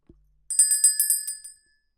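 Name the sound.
bell ringing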